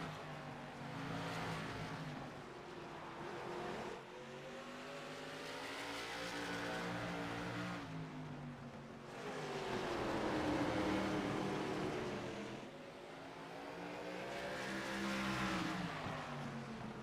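Race cars roar around an oval track at the Southern National 200, their engines rising and falling in steady waves as they pass and cycle through the turns, a dense continuous drone heard from a distance with no talk.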